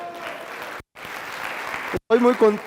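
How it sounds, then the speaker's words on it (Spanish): Applause from a seated audience at a business training event, a broad clapping wash broken by two brief cuts, with a voice speaking near the end. "un fuerte aplauso para todos ustedes"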